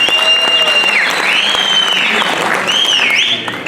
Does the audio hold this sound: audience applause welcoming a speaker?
yes